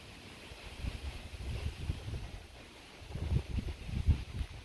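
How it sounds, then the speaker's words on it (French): Gusty wind buffets the microphone in rumbling surges during a storm at sea, rising and falling with strong bursts near the end, no voices. "Le vent rentre de plus en plus dedans."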